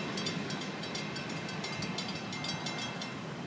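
An FEC train rolls steadily past at a distance, a continuous low rumble with faint rhythmic clicking of wheels over rail joints.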